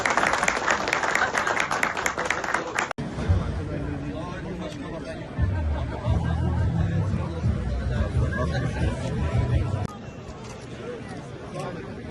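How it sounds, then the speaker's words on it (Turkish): An audience applauds at the Pamukova quince festival, with sustained clapping and crowd chatter throughout and people talking over the applause. "Yukarı bir alkışlasın."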